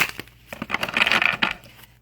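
Tarot cards being shuffled, a flurry of papery riffles and soft slaps close at hand with brief gaps between bursts, with no talking.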